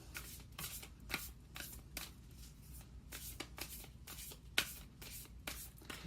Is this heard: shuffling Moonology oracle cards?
yes